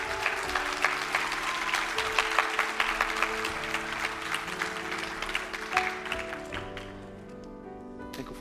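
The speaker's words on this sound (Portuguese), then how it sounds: "Pastor Danny de Armas, eu queria que nós o recebêssemos com uma salva de palmas agora" A congregation gives dense, sustained applause to welcome a pastor, with crowd murmur underneath and the clapping thinning out toward the end.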